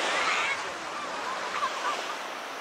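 Ocean waves wash onto a beach on Korea's East Sea coast, a steady broad rush of surf filling the whole stretch without breaks, close and fairly loud, with no voices.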